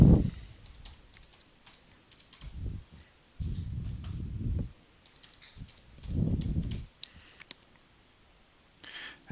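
An email address typed on a computer keyboard, quick bursts of light close key clicks separated by short pauses, with low rumbling handling noise underneath.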